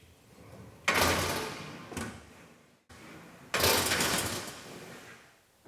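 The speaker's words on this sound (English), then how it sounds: "We'll pull the cover closed and then use the cover to space the rails apart at the tailgate" Tonneau cover on a truck bed drawn closed toward the tailgate in two long sliding, rattling passes separated by a brief pause, close and fairly loud with no talking.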